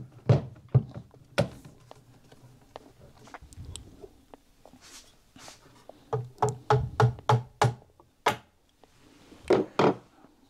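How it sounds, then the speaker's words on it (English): A plastic mallet taps the barrel band of an M1A rifle at a workbench: sharp, close thunks come singly at first, then in a quick run of repeated blows and a last few hits. "Plastic mallet is a good thing to have at the bench."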